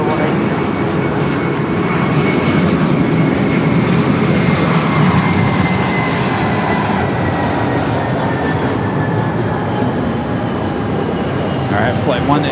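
A Korean Air heavy jet rolls for takeoff on runway 24 left at LAX, its engines building a loud, steady broadband roar that stays strong and continuous throughout.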